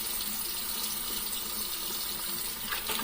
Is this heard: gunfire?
no